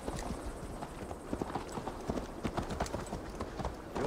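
A horse ridden at a steady pace in the Viking-era game Assassin's Creed Valhalla clip-clops along. Its hooves strike in an even, rhythmic beat at close range for a few seconds.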